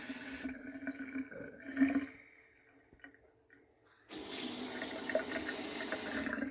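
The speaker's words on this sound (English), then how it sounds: "Vessel sink working." Water runs from a newly installed vessel sink faucet, a steady close splashing stream that switches on abruptly after some quiet handling noise and keeps flowing to the end.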